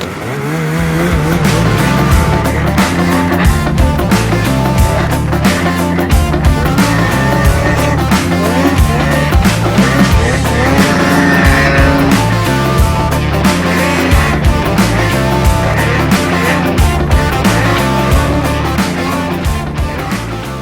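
Snowmobiles ride slowly over thin early-season November snow. Their engines make a loud, continuous droning roar that holds for the whole stretch, close by, with no talk.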